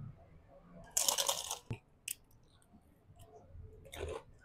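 Crispy fried pork ginabot snack being eaten close up, with a few sharp crunchy bites and soft chewing between quiet pauses.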